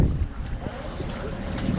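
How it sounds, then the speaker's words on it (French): A sailing boat heading straight into the swell off Corsica, with steady wind rush and water slapping against the hull, close and continuous throughout. "là on prend la houle de face"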